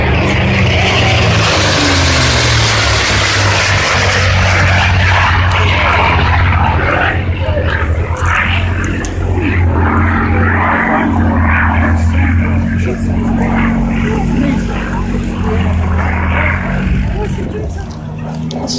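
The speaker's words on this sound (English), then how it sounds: "Ferocious Frankie, the old Flying Machine Company's P-51D Mustang" The P-51D Mustang "Ferocious Frankie" flies past at the Old Buckenham Airshow, its loud piston engine droning steadily and swelling in pitch as the aircraft passes, with a commentator speaking over it.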